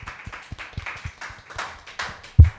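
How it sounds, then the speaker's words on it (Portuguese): Podcast hosts clapping for a guest, a short run of a few hands applauding briefly, close and uneven, ending in a louder thump. "Nosso podcast vai ter palma ou não vai ter palma?"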